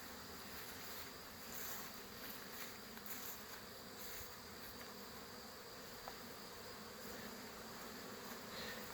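Honey bees buzz around mating nuke hives outdoors, a dense, steady droning hum from many insects with individual bees passing closer now and then, faint and continuous, with no voices.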